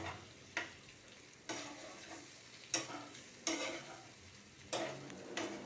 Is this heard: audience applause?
no